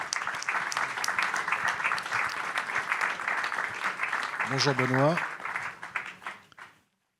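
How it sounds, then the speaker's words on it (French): At a debate on artificial intelligence, an audience applauds warmly as guests arrive, sustained dense clapping with a brief spoken greeting over it, fading out toward the end. "que je vous demande d'applaudir chaleureusement"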